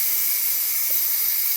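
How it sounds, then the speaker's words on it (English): Steam hisses loudly and steadily from an Instant Pot's quick-release valve after cooking cube steak, a dense, unbroken rush of venting pressure. "I'm going to do the quick release here on the Instant Pot"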